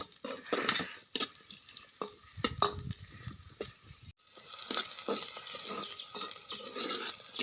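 Onions cook in a pan at home, with intermittent stirring and scraping over a light sizzle, nearby and moderately loud, with no speech.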